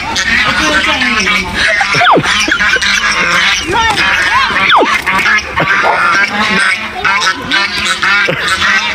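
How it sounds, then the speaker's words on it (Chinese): A goose honks loudly and repeatedly in bursts, mixed with excited voices of several people talking and shouting close by throughout. "这谁大鹅？"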